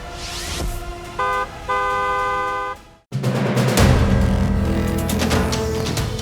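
A car horn honks twice, a short toot then a longer blast, followed by loud road and engine noise.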